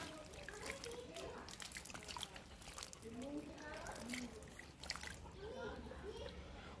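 Water trickles and splashes quietly onto the soil of a potted jasmine (mogra) plant, a faint, steady pour with small sloshes, while someone talks over it.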